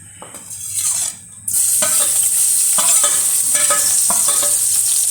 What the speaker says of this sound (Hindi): सबसे पहले हम इसमें जो है ना डालेंगे अदरक और लहसुन